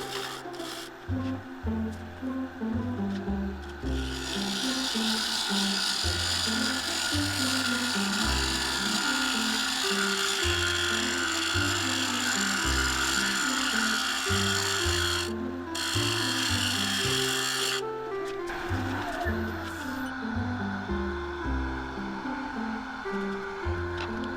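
Swept back bowl gouge cutting a blend of epoxy and cracked redgum on a wood lathe, a steady close scraping hiss that runs almost unbroken, dipping briefly in the middle.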